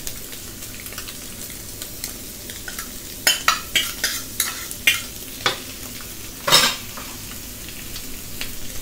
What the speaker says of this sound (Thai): ผัดด้วยกันได้เลยครับผม